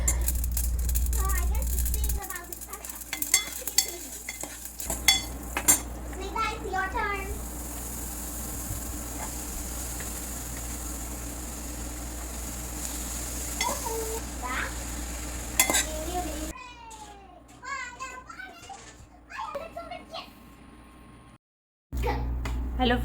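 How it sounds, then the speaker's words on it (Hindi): Spices tempering for sambar crackle and sizzle in hot oil in a home kitchen, with stirring clinks against the pan, then a sharper burst of popping near the end. "अभी मैं सांभर के लिए तड़का लगा रही हूँ"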